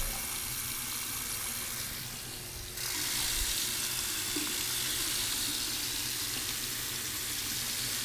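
Cold water gushes steadily from a campground tap nearby, a constant hissing flow that grows stronger a few seconds in, with no talking.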